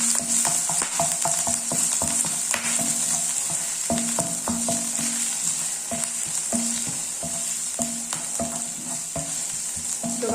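Ginger, garlic and curry leaves sautéing in hot oil while being stirred for a green peas curry: a constant close sizzle broken by repeated scraping clicks of a utensil against the pan, with no talking.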